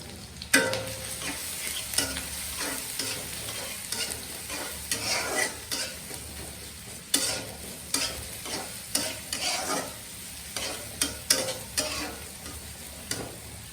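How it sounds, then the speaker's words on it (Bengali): Onions frying lightly in a pan for an egg and dal tarka, a steady soft sizzle broken by repeated stirring scrapes and spoon clicks, close and alone without talk. "হালকা করে পেঁয়াজটা ভেজে নেব।"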